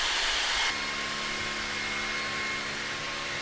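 A loud, steady high-pitched whine and rushing airflow of a Levoit LVAC-300 cordless vacuum on turbo mode, with a slight drop in pitch early on.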